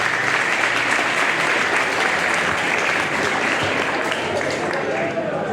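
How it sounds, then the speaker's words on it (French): A crowd applauds steadily and loudly throughout, a dense, continuous wash of clapping with no pauses. "Je fais grand effort, applaudis s'il vous plaît."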